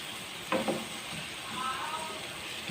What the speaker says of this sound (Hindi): उस वक्त तक आप इसको भूनें कि अच्छे से पालक भी भुन जाए।